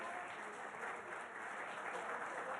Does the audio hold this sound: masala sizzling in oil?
no